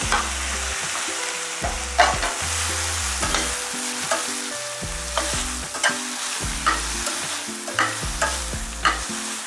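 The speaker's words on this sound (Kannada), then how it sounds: "ಒಂದು ನಿಮಿಷ ಫ್ರೈ ಮಾಡ್ಕೋಬೇಕು, ಟೊಮೊಟೊ ಸಾಫ್ಟ್ ಆಗೋ ತನಕ." Chopped tomatoes and onions fry in a pan for upma, a steady loud sizzle broken by repeated scraping stirs of a spoon against the pan, with no voices.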